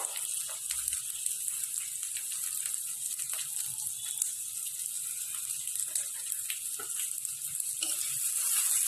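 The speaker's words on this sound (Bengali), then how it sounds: "মশলার সঙ্গে মিক্স করে ভেজে নেবো। মশলাটাকে ভালোভাবে এবার কষিয়ে নেবো।" Chili and turmeric powder frying in oil with ground spice paste in village-style home cooking, a steady close sizzle and hiss with occasional light stirring clicks, no talking.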